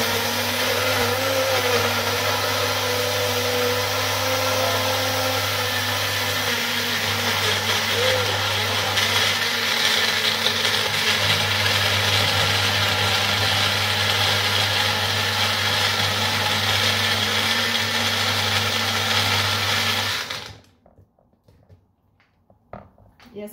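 A kitchen blender blends pineapple in one loud, steady motor whir for about twenty seconds, then switches off abruptly into near silence.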